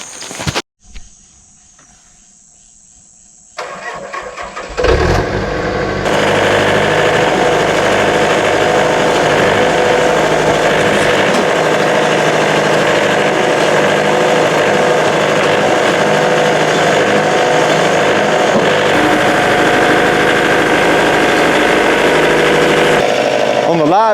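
A sawmill cuts live edge from a black walnut log: after a few quiet seconds and some clunks, the machine engages and a loud, steady broadband whine and engine roar runs continuously to the end.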